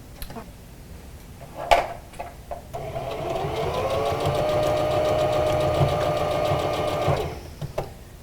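A sewing machine runs steadily for about four seconds, stitching the overlapping top and bottom edges of a fabric Olson face mask, its rapid mechanical ticking loud and close, with brief handling clicks before and after.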